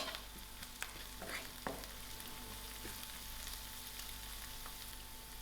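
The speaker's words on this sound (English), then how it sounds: "and also my garlic. I will allow this to fry just a little." Garlic and dry chilies frying in a pan for a spicy spinach omelette, a faint, steady sizzle with a few soft stirring clicks, no voices.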